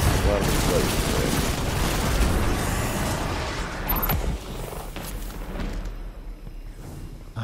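Dense rattling gunfire and booming explosions from Destiny 2: Beyond Light, loud and continuous, fading somewhat toward the end, with a voice talking over it.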